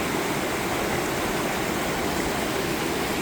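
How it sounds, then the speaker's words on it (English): Waterfall at Hebron Falls off the Boone Fork Trail, a dense, steady rushing roar of falling water filling the whole clip, close and constant with no voices. "he's watching the waterfall"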